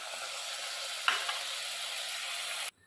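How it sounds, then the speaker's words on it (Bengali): Spice paste frying in a pan for a chicken curry, with rinse water from the spice bowl added: a steady, bright sizzle throughout, a small splashy crackle in the middle, then sudden silence near the end. "মশলাটা আমি ভালো করে কষাবো। মশলার বাটি ধোয়া জলটাও একটু দিয়ে দেবো।"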